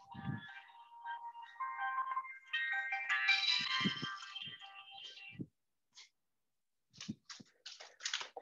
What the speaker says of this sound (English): I hate this alarm.